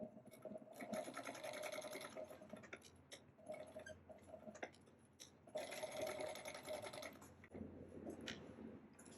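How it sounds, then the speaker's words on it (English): A Class 26 leather sewing machine stitches in rapid mechanical bursts separated by short pauses, faint but clear and close, with light clicks and no voices. "This is my first time sewing on a Class 26 machine."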